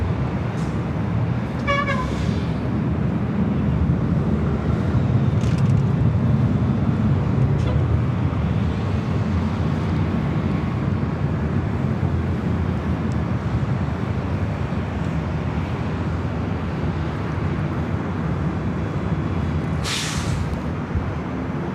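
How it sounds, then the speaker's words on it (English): Delta Airbus A320 taking off at LAX, a steady distant roar of jet engines holding for the whole stretch, with brief faint other airport sounds. "This next takeoff is Delta 2054, taking off to San Francisco on the A320."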